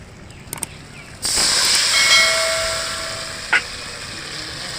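Mustard paste curry in a pan breaks into a sudden, loud, continuous hiss and bubble that holds steady, then slowly eases. One brief clatter sounds near the end.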